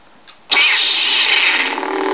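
A Torrent replica lightsaber on its Luke Bespin setting ignites with a sudden loud crackling burst that settles into a steady bright buzzing hum, close and alone.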